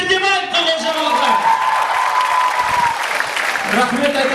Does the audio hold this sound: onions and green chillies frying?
no